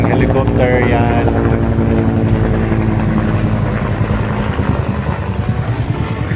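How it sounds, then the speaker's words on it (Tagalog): Helicopter rotor chop near a military camp in a rural province, a loud steady drone throughout that slowly eases off, with people talking over it. "Mayroong helicopter yan."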